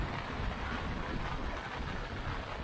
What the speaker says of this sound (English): And the wind is getting strong.